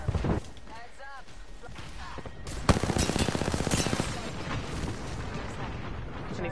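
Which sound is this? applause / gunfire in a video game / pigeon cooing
gunfire in a video game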